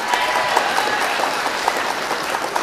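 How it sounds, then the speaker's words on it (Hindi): Audience applause at an All India Mushaira poetry gathering for the chairman: a short burst of dense, lively clapping from a crowd, loud and continuous. "एक बार इनके लिए जोरदार तालियां"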